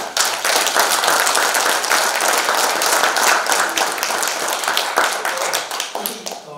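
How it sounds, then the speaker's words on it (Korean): Steady, loud audience applause at a Korean commemorative ceremony honouring an independence activist, dense clapping sustained for several seconds before tapering slightly at the end. "박수 한번 드립니다"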